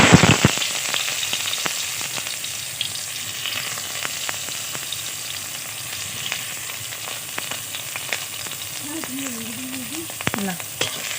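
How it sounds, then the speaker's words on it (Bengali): Onion and chili frying in a pan for a pumpkin-flower mash, a steady close sizzle with scattered crackles and pops throughout; a brief faint voice near the end. "কুমড়োর ফুলের ভর্তা বানানোর জন্য প্রথমে পেঁয়াজ আর লঙ্কাটাকে আমি একটু ভেজে নিয়েছি"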